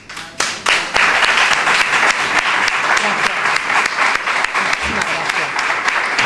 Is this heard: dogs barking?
no